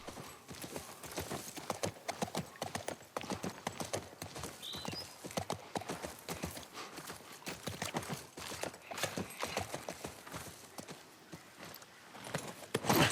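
Horse hooves clip-clop steadily at a walking pace in the video game The Last of Us, a close, continuous patter of hoof strikes with no talk over it.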